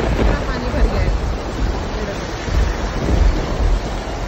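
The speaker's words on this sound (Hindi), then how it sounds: "सुबह से बारिश हो रही है, सुबह से और अब देखो कितना पानी भर गया है।" Heavy rain and rushing floodwater in Auckland make a dense, constant roar with gusty wind noise on the microphone, loud and unbroken, with faint voices mixed into the background.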